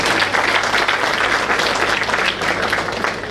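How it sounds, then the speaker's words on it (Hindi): Audience applause, a dense burst of clapping that stays loud and fairly even throughout, with no voices standing out over it. "इसलिए ताली बजाओ उनके लिए।"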